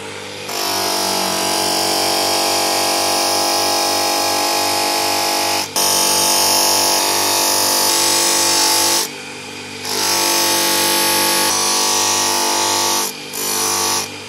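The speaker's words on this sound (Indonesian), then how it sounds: "Kita pakai levis dengan batu hijaunya." A buffing wheel loaded with green compound polishes a rusted blade toward a satin finish, a loud continuous motor whine that cuts out briefly twice before starting up again.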